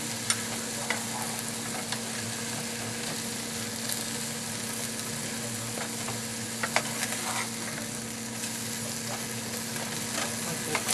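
Spinach meat patties fry in a pan with a steady, even sizzle throughout, broken by a few faint clicks and scrapes as they are turned.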